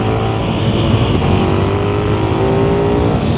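KTM Superduke 1390R Evo motorcycle engine pulling hard, its rising revs sweeping upward in a continuous loud roar for a few seconds, close to the rider, with no voices.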